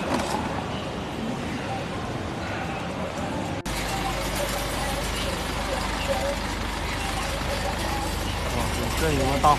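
A big truck rumbles through crowded street traffic beside a busy digital-products market district, a low continuous engine drone with general road noise and chatter around it.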